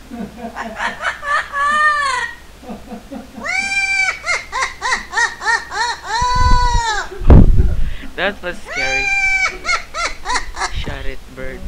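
Pet bird screeching in repeated harsh, wavering calls, loud and close, in bursts across the clip with pauses, a person speaking briefly between them and a couple of thumps.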